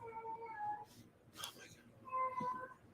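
A cat meows softly in two drawn-out calls separated by a short rustle, fairly quiet and close, with a faint voice in the background.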